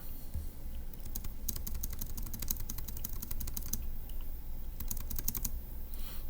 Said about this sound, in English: let's type it up